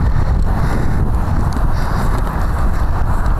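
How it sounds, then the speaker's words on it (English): Steady, loud wind buffeting the microphone with a constant low rumble, no voices. "Windy out here"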